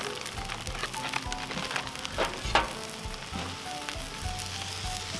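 Frozen fajita blend vegetables sizzle and crackle on a Cuisinart 360 griddle, a steady close frying hiss with a few louder pops and no voices.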